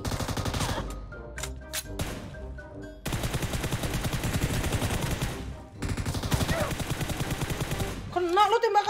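Dense bursts of rapid gunfire from a shooting video game during a one-on-one match against a bot, firing in long loud volleys with brief gaps, over game music at the start and an electronic tone at the end.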